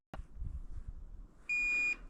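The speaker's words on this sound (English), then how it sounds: "What is the beeping?" A single sharp electronic beep sounds for about half a second after a faint click and low background rumble.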